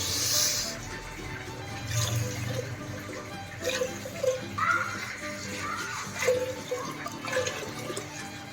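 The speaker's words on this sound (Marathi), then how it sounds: "त्यामध्ये पाच वाट्या पाणी टाकायचं आहे" Water is poured into a pot with sugar to make rasgulla syrup, heard as a close splashing and gurgling stream with some sloshing and small knocks, fairly quiet throughout.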